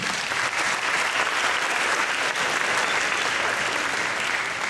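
Steady audience applause at a middle school brass quintet concert, dense continuous clapping with no voices.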